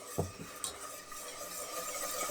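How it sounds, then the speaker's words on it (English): Milk stirred into a thickening white sauce in a pan to work out the lumps. A quiet, continuous scraping stir runs under low background hiss, broken by a few light knocks of the utensil. "as I mix, I'm making sure I get rid of all of the lumps"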